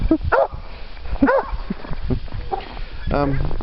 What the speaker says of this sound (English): She's always barking at something.